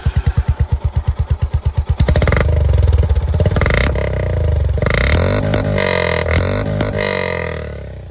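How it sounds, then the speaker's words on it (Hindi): A Honda CB350 motorcycle with a long exhaust thumps at idle, then revs up and holds a loud, rumbling exhaust note with a few throttle blips, close by. "एक बार यहाँ पर जो होंडा CB350 इसकी भी आवाज़ आप लोग सुन लीजिए"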